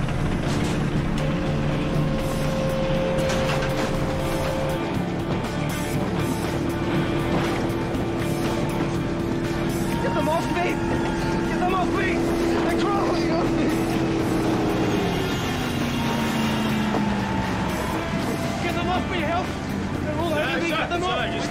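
A naval sea boat's motor runs continuously, a steady droning hum whose pitch shifts as it moves on the water, with voices talking over it throughout.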